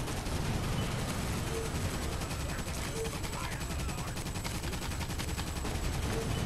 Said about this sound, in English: You just called another barrage.